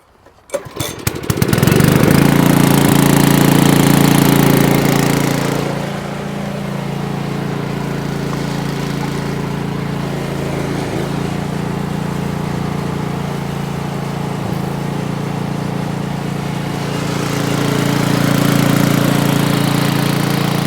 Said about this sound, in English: We're gonna go ahead and pump it on up in this tote.